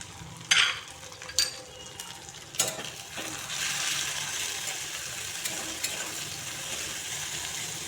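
Turmeric, chili powder and salt sautéing in a pan, opening with sharp utensil clanks against the pan, then a steady hissing fry beneath occasional stirring knocks.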